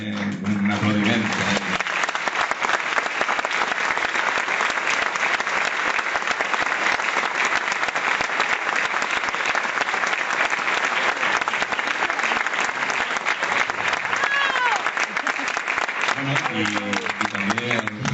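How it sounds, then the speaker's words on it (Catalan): A large concert audience gives sustained applause for a choir president at a peace-mass performance, dense even clapping holding for well over fifteen seconds, with brief voices and music at the start and end. "al que jo també li demane un aplaudiment"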